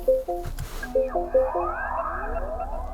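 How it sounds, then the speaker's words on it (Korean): MINI Electric car powering on with a short, cute synthetic startup chime: a few stepped tonal beeps followed by rising sweeping tones, close and clear, with no talking. "되게 앙증맞고 귀여운 그 시동 소리가 납니다"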